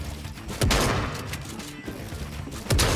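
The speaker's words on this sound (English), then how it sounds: "I hate the auto shotgun." An automatic shotgun fires in a video game arena, two sharp, loud booming blasts about two seconds apart over continuous gameplay noise.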